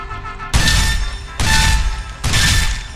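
Three heavy blasts of a shotgun in a Lego video game, spaced less than a second apart, each a loud broadband boom with a short ringing tail and no voices.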